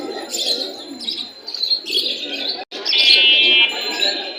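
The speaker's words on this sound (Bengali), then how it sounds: "এখানে আপনার বিউটি কবুতর আছে, ফেন্সি রেসার সব ধরনের কবুতরই পাওয়া যায়।" Lotan and fancy pigeons at the Mirpur pigeon market in Dhaka coo and chirp close by in a busy bird chorus, with faint murmuring voices in the background.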